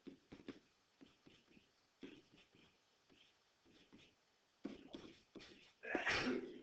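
A sudden, loud sneeze near the end, after a stretch of quiet, halting speech and small scattered noises.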